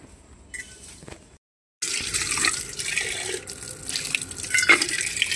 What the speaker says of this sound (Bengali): ঠাকুরের জল ভরে নিলাম এখন।